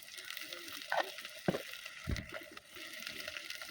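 Masala with tomato and salt sautéing in oil, a sizzling fry under a few spatula scrapes and clatters against the pan, with one louder thump toward the middle.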